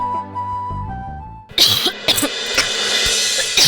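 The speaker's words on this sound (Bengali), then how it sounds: "আমি যতটা সম্ভব আস্তে কাশার চেষ্টা করবো যাতে আপনার ঘুমটা না ভাঙে।" A person with a cold gives a series of loud, close coughs and throat-clearing bursts after a soft sustained musical tone in a drama scene.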